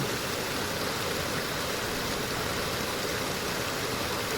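Flowing water runs in a steady, unbroken hiss during a meditation, even and moderately quiet throughout with no voices over it.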